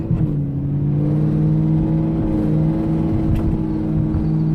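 A 1998 Pontiac Trans Am with a 4L60E automatic accelerates hard in second gear on the road, a loud, steady engine roar that climbs slightly in pitch throughout.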